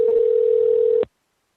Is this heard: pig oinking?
no